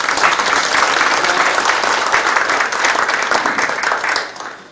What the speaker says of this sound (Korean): 다시 한번 큰 박수